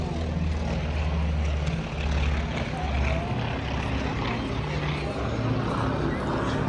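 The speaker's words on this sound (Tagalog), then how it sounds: "Laki ng eroplano." A large airplane flies over an Air Force air show, its loud, steady engine roar filling the scene while a crowd and people's voices murmur underneath.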